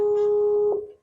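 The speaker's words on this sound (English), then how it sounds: "Oh, still ringing." A telephone ringback tone on an unanswered call, one steady electronic burst that cuts off and trails into a faint hum.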